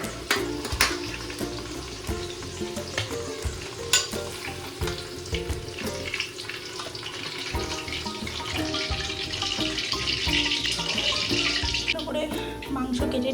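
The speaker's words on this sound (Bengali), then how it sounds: "আলু ভাজা প্রায় হয়ে গেছে, এবার এক এক করে নামিয়ে নেবো" Potatoes seasoned with salt and turmeric frying in a pan in a home kitchen, a steady sizzle with scraping and stirring clatter and a few sharper knocks, with running water from a tap audible at moments.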